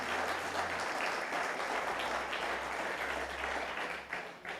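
A church congregation clapping hands together in praise, a dense continuous round of clapping heard at moderate distance with a low tone droning beneath.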